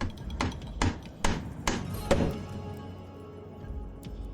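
Chopping and hammering sound effects from the Wurm Online game as trees are felled: five sharp, loud wooden thwacks spaced about half a second apart, followed by a fading low rumble, with no talking.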